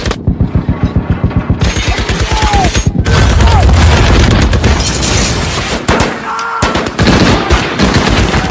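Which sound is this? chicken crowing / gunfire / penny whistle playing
gunfire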